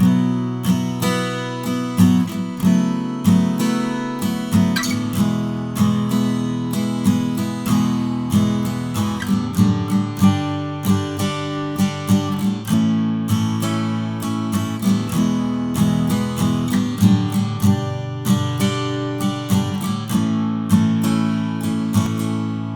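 Guitar strumming the chorus 2 chord progression of a song, with steady rhythmic strums played through once. It is loud, close and alone, with no voices.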